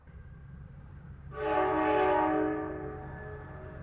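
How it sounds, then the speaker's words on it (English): An Amtrak Cardinal passenger train departing in the West Virginia countryside sounds one long sustained horn blast over its low rumble, then the horn fades as the rumble continues. "Off our train goes into the West Virginia countryside once more."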